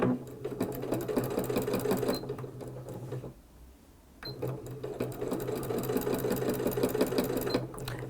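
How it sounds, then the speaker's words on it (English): A sewing machine stitches binding onto a quilt, its steady close whirring needle rhythm running continuously, pausing for about a second midway before resuming at the same pace. "So we're just sewing along the length here, getting our raw edges up against the quilt."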